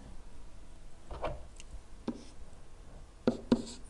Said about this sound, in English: Oh, I forgot to write my 0 in.